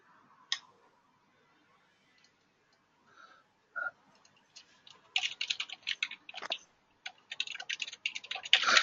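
Computer keyboard typing in irregular bursts of soft clicks, sparse at first and then denser and faster toward the end, fairly close and moderately quiet in a still room.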